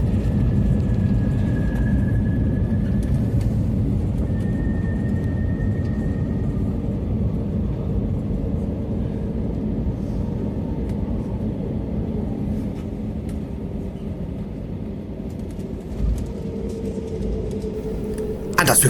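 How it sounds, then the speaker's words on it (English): A British Airways airliner touches down and rolls along Heathrow's runway 27 left, a steady loud low rumble with broadband roar that holds for the whole stretch, with faint tonal whines drifting above it. "we touch down on Heathrow's runway 27 left"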